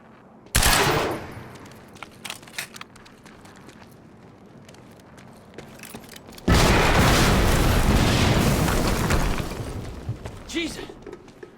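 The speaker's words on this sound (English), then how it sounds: "HQ, we just heard an explosion near the harvesting perimeter" Explosions in the video game Quantum Break: a sharp blast hits early, then a long, heavy roar of rumbling detonations and gunfire-like bursts swells loud for several seconds before fading.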